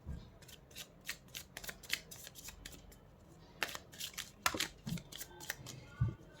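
Tarot cards being shuffled by hand in quick riffling bursts and soft flicks, close and fairly quiet, with a few small thumps and light handling noises between them and no talk.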